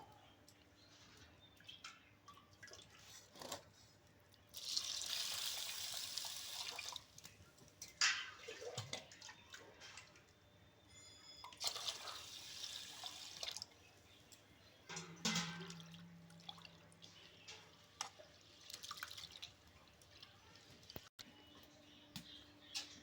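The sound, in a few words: washing rice and three kinds of lentils in water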